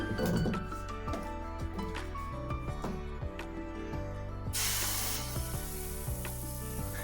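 Dosa batter hits a hot, oiled cast griddle for an instant urad dal dosa, and a bright sizzle swells up midway through. Light clinks sound first, and steady background music plays throughout.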